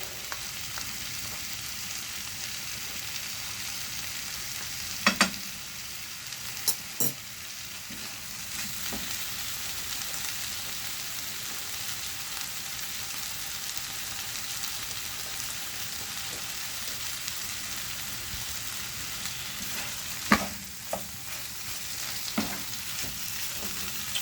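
Chicken jalfrezi fries in a pan with a steady sizzle throughout, and a spoon scrapes and stirs it now and then with a few sharp knocks.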